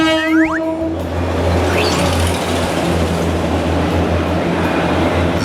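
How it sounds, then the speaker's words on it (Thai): A train horn sounds briefly, then a loud rumbling train rolls past steadily with clattering wheels and a low engine drone. "ดูรถไฟมารถไฟมารถไฟมา"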